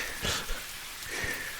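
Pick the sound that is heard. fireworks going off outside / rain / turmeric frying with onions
rain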